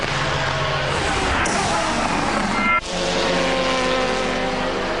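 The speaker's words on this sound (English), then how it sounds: "Marc Duez charging through Ferrari traffic" Race cars at Silverstone during an FIA GT race in 2002, including Ferraris, roar past in a continuous loud engine wash with shifting pitch and a brief dip midway as one car passes close.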